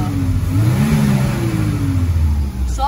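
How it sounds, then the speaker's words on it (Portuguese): The engine of a 1993 Chevrolet Omega GLS revs up close by, a loud, rising mechanical drone with a steady hum underneath, easing off near the end. "Ó, acelera aí pra você ver. Acelera aí."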